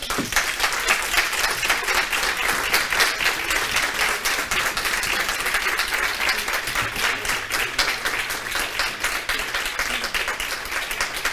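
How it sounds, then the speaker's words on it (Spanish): A lecture audience at a Book Day talk applauds the author, many hands clapping in a long, steady, dense round that holds its level throughout. "batid las palmas aplaudir al autor"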